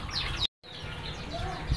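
Java sparrows in a large colony aviary of white and silver breeding pairs chirp and tweet continuously at close range, with high bright calls over a steady low background and a brief dropout.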